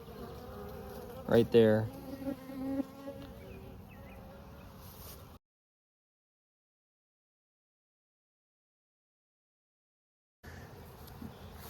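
A steady buzz of honey bees at a hive, including pollen-carrying foragers, hums throughout, broken by a few seconds of silence, with a brief spoken phrase and a louder close pass near the start.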